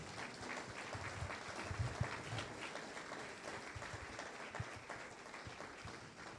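Church congregation clapping in praise during a sermon service, a moderate, fairly even applause with some sharper individual claps standing out, no one speaking over it.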